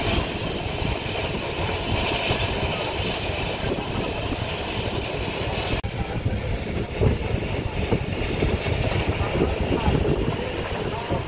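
The Karakoram Express runs at high speed between Lahore and Faisalabad, heard as a continuous loud rumble and rattle of the wheels and carriages with a broadband rushing roar throughout.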